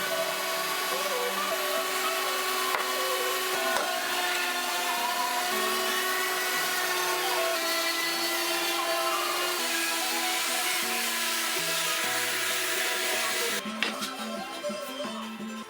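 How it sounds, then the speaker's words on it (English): A belt sander and a random orbit sander work over a glued-up wooden farmhouse tabletop, giving a continuous motor whine with shifting pitch and a change in tone near the end, under talking. "Anne is using a belt sander to flatten any discrepancies in the tabletop after the glue up"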